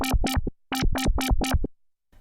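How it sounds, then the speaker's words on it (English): Synthesizer bass patch with a very fast LFO modulating the rate, giving a harsh, overtone-rich tone; two loud phrases of rapidly pulsing notes, the first shorter, separated by a brief gap, with no talk. "This makes the LFO rate really fast, which creates a crazier sound with more harmonic overtones"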